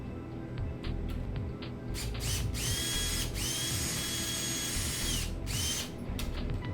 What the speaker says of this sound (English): Just want to snug the screws down.